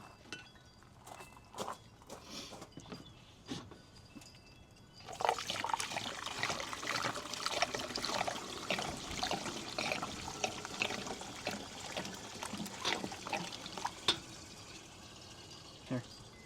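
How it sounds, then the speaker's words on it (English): Water poured into a part of an old abandoned Ford F100 Flareside Bullnose truck, a steady trickling splash starting partway through and running continuously, close by, after a quieter stretch of scattered clanks and footsteps. "Let's put more water in there."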